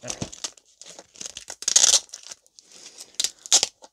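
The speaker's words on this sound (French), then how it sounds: "Parfois, le scotch est tellement ancré, quand j'enlève, ça arrache le plastique de la jaquette" Sticky tape peels and crackles off a plastic DVD case in several short bursts, crinkling and tearing sounds up close with brief pauses between pulls.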